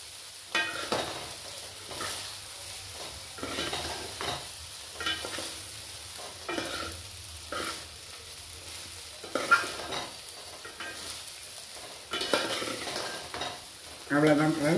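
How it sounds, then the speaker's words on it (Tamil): Vegetable fried rice being stirred and tossed in a pan with two ladles, giving a steady run of scraping, clinking strokes over a soft sizzle, fairly close and with no talk. "இந்த மாதிரி 2 கரண்டியை வச்சு இப்படி நம்ம கிண்டி விட்டுக்கிடலாம்"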